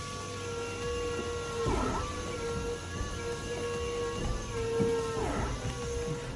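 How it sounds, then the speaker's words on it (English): A Volvo electric power steering pump on a GC8 Impreza fitted with an STi rack whines in a steady electric tone with a higher harmonic, swooping briefly twice as the load changes, heard close up. "if we turn my electric power steering on, we can hear her spool up"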